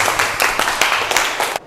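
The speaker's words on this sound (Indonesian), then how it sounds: "Oke, tepuk tangan dong" A classroom group claps together for a student, a short burst of dense, even hand clapping that lasts under two seconds and then stops abruptly.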